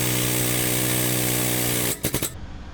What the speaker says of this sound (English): And go for it on the press.